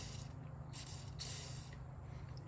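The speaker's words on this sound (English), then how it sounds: "you're gonna take the O-ring, and what I do is I just simply spray the end." Short bursts from a spray can of lubricant soaking the O-ring of a fuel injector on a supercharged Honda S2000, two brief hissing sprays over a steady low hum in a garage.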